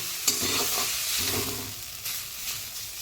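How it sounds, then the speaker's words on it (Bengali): Sliced radish frying in a pan gives a steady, close sizzle and hiss with occasional stirring scrapes and small pops throughout, no voices over it. "এই যে মূলো ভাজা বসিয়েছি"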